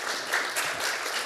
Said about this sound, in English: So I think you can give more applause now for this panel.